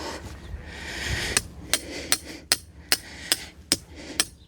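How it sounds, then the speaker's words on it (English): A hammer strikes steel rebar being driven into the ground outdoors, about nine sharp, evenly spaced metallic blows rising over a soft scraping background. "hammer it down"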